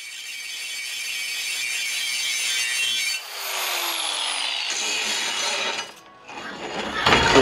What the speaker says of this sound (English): Great when you get that grinder just the right angle to sit there and spin itself.